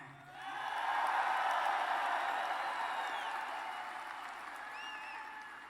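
Crowd at a Trump rally in Toledo, Ohio clapping and cheering, the applause swelling quickly then easing off gradually, with a few whistles rising above it near the end.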